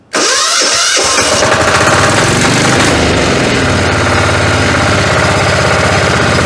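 A Motor Sich walk-behind tractor's diesel engine catches and runs loud and close at high revs, a harsh, steady mechanical clatter with no pauses.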